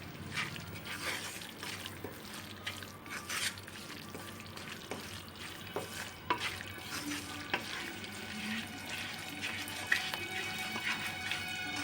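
Ingredients for Andhra-style spicy prawn pickle frying in a pan over a low flame, a steady soft sizzle with occasional stirring scrapes and clinks, close and moderately quiet, no voices.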